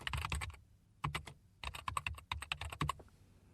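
Rapid bursts of keystrokes on a computer keyboard as a line of text is entered in a web editing program, close and fairly loud, coming in quick clusters with brief pauses between them and no talking.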